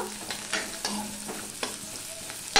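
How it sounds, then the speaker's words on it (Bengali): Onions stir-fried in a pan for an egg dish: a steady sizzle with a run of sharp spatula scrapes and taps against the pan at an uneven rhythm, close up and with no talking. "পেঁয়াজটা দেখো লাল লাল হয়ে ভাজা হয়ে গেছে।"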